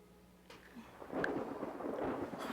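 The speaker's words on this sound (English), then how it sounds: "Oh, listen to that thunder." Thunder in a television episode rolls in as a low, broad rumble that swells after a quiet start and stays loud and sustained, with a few brief brighter crackles over the top.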